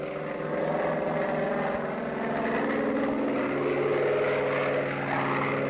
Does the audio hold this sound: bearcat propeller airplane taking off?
yes